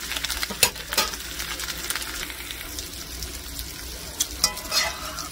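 Potatoes sizzle and crackle as they fry in a pan alongside fish and cabbage, a steady close hiss broken by louder bursts of spatter and clinks from stirring.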